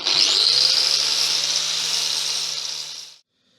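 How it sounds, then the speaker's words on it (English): An angle grinder fitted with a wire wheel buffs steel arrow fletchings, giving a loud, steady high-pitched whir with a scratchy metallic hiss that runs for about three seconds before cutting off abruptly. "take a wire wheel in an angle grinder and just polish them up a little bit"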